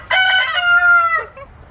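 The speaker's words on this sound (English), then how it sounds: "we've decided to just let him crow" A rooster gives one loud, close crow, a rising then sustained cock-a-doodle-doo that trails off into a short final note with no talking.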